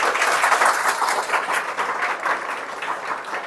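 Clapping from a crowd at a school quiz prize ceremony, brisk and fairly close, loudest at the start and tapering slightly while staying continuous.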